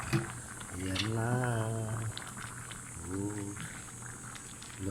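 A covered pot of mung beans, chicken feet and jackfruit with a little coconut milk simmers at a steady bubbling boil, a continuous close hiss and burble, with a voice sounding softly in the background.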